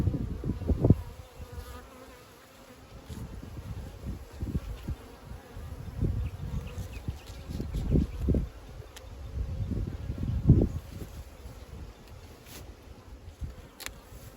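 Honeybees buzz around an open top bar hive during an inspection in Australia, a fluctuating drone of many insects close by, swelling and easing, with occasional faint handling rustles.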